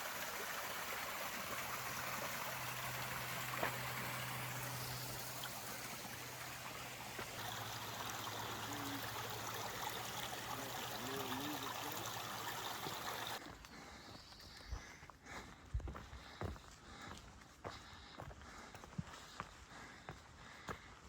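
A clear-water brook flowing along a trail near the top of Bromley Mountain, a steady broad rush of moving water, close and continuous, easing a little toward the end as footsteps crunch nearby.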